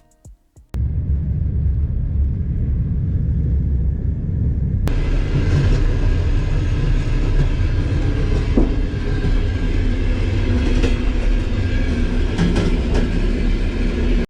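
After a brief quiet moment, a loud continuous rumble of a moving coal-heated passenger train between Bucharest and Chișinău fills the clip, with steady rattling and occasional clacks from the rails.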